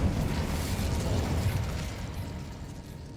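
A fire spell is cast in the Hogwarts Legacy video game, giving a steady, dense roaring whoosh of flame that stays loud and fairly even throughout, fading slightly toward the end, with no speech.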